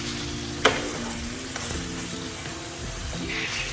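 Tapa, a cured beef, frying in a pan, giving a steady close sizzle with scattered pops and a sharp clack near the start, as if a utensil hits the pan.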